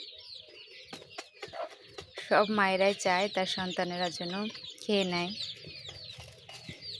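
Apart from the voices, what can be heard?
mother hen clucking, calling her chicks to eat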